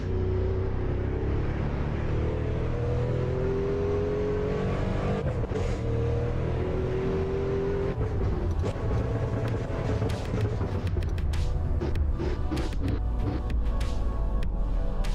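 Racing car engine in the Assetto Corsa video game drones continuously, revving up and down with shifting pitch, loud and steady throughout with no speech.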